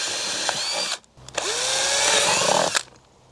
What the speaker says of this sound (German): So, in diesen Blumentopf machen wir jetzt mehrere Löcher.